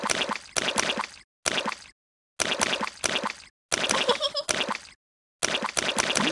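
Repeated cartoon splashes from jumping in muddy puddles in a Peppa Pig video game: short wet plopping bursts of similar loudness, separated by brief silent gaps, with no talk.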